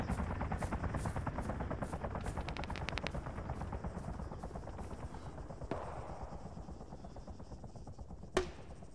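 A helicopter flies in the video game Arma 3, with a steady, rhythmic rotor thump that fades as it moves away and is broken by a couple of sharp gunshot or explosion cracks.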